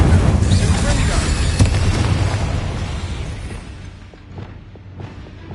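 The Incendio fire spell is cast in Hogwarts Legacy, a loud, roaring burst of flame that erupts at once and then slowly fades into a crackling rumble over several seconds.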